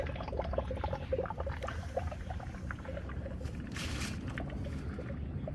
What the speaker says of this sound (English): That's about after 3 minutes of extracting the oil. You might be able to hear it.